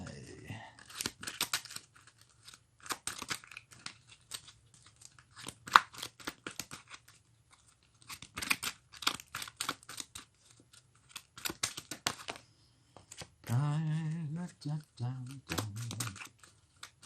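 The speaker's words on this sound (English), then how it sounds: "We shuffle up the cards." Crisp, papery riffling bursts of playing cards being shuffled, repeated several times in quick clusters, with a voice speaking near the end.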